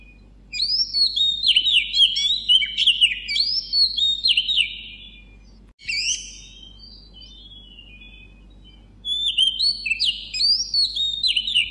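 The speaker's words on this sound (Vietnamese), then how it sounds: "Đó là tiếng chim hót đấy các con ạ." Several small birds chirp and trill in quick, bright phrases, their song coming in bursts with a short lull near the middle, loud and close over a faint steady low hum, with no voices.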